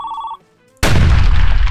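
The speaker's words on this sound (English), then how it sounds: "Oh my gosh, the phone's gonna ring." A phone in a Roblox room gives a short electronic ring, then after a brief silence a loud burst of noise cuts in and stays loud to the end.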